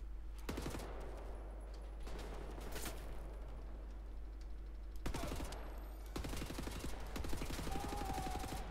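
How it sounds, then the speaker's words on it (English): Gunfire in the shooter Wolfenstein: The New Order, with several separate bursts of rapid automatic shots and single cracks spread across the moment, over a low steady rumble of game ambience. "Well, who's shooting at me?"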